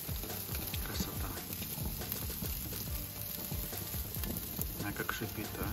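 Loud, continuous sizzling of steak frying in a hot pan, crackling and spitting steadily throughout with no pauses.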